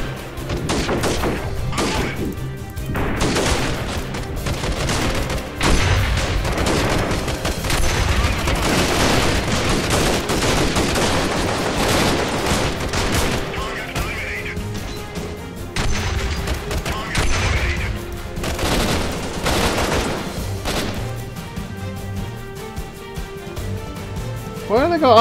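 Gunfire and grenade blasts from the Freeman: Guerrilla Warfare video game, a dense sustained fusillade of rapid shots and heavy booms that runs almost without pause, with a voice talking over it.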